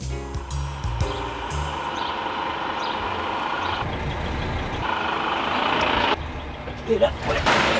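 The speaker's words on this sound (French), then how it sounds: "Quand on croit passer le camion par la droite et qu'il se déporte sur la droite" A truck manoeuvring close beside a cyclist on a road, with repeated reversing beeps early on, a loud diesel engine rumbling throughout and a hiss like an air brake near the end.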